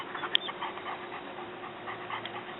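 Police narcotics detection dog panting during a demonstration around vehicles at a police department open house, a steady close breathy rhythm over faint background murmur.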